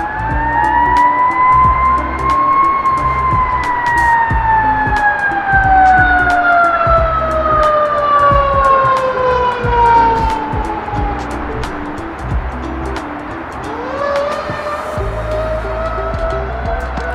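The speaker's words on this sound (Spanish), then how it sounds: "Una ambulancia." An ambulance siren wails loudly and close, its long sweeping tone bending downward as the vehicle passes and then rising again, with road traffic rumbling underneath.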